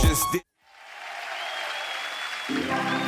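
Audience applause at a rap battle event swells out of brief silence into a steady, dense wash of clapping and crowd noise that holds to the end, with a short burst of music or voice at the very start.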